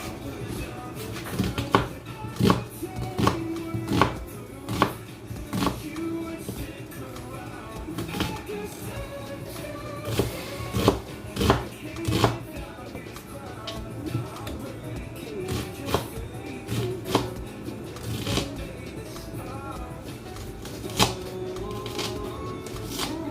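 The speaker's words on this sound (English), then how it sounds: "I'm gonna cut them small as well." Small knife chops on onion being cut into small pieces, a brisk run of sharp taps on a board repeating steadily throughout, close up, with a voice talking over them.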